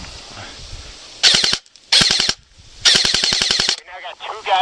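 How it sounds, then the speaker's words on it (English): Airsoft guns fire in rapid automatic bursts during an outdoor skirmish, three loud strings of quick rattling shots separated by short pauses, followed by faint background chatter. "Still got 3 firing on the mosque."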